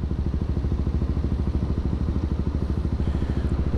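Motorcycle engine running steadily with a fast, even low pulse while heading down a steep mountain road to Ratti Gali lake in Neelum Valley, Azad Kashmir, with failed brakes; close and continuous, no talk.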